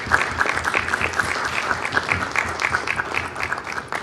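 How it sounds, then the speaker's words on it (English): Audience at a city council meeting applauds scholarship winners, steady clapping throughout with no voices over it. "Let's give them a big round of applause."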